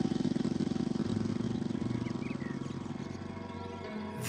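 A moped engine runs with a steady, buzzing mid-pitched drone and a rapid pulsing throb. It sounds close at first and fades slightly as it continues.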